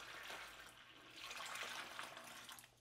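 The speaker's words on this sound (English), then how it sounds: "I just have a regular water pitcher, and all I'm gonna do is I'm just gonna dump it in like so." Water from a plain pitcher dumps into a shower over a drain covered with a clear tray, a steady broad splashing pour that swells midway and runs close and alone for about three seconds.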